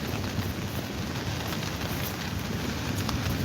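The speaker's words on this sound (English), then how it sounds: "oh, it's starting to rain again." Rain falls steadily on a windy beach, a dense, continuous hiss and patter that stays even and close throughout, with no voices.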